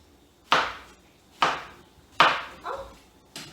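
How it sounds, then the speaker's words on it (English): Cucumber is chopped with a knife on a board in four sharp, evenly spaced thuds and a lighter fifth. Each cut is close and crisp, with quiet gaps between strokes. "I'm just gonna chop up some cucumber here."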